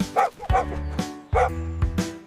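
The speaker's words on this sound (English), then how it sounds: "dog who barks all day" A dog in an animated children's alphabet song gives several short, loud barks and yips in an uneven rhythm, close up.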